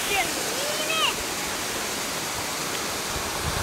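Water pours into a deep quarry pond in the Arimbra Hills, a steady broadband rush like a small waterfall, with a few faint bird chirps over it early on.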